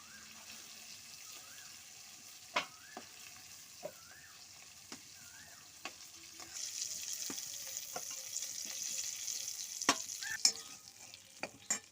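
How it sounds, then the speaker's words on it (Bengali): Shrimp fry in oil in a pan for a Bengali potol chingri dish, with a soft continuous sizzle, occasional sharp spatters and stirring clicks that grow busier midway. "চিংড়ি মাছগুলো আমার হালকা ভাজা হয়ে গেছে বন্ধুরা"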